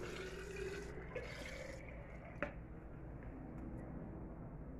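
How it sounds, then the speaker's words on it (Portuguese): One liter of room-temperature water pours into a tall jug while a foaming soap aluminum cleaner is being mixed. It makes a faint, steady rushing splash that changes slightly partway through. "Vamos acrescentar aqui 1 litro de água, água em temperatura ambiente."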